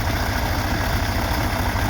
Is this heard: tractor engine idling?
yes